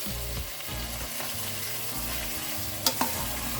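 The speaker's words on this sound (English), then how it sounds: "Give it a nice stir." Green masala and tomatoes frying in a pan, a dense constant sizzle with a couple of sharp utensil knocks near the end and no voices.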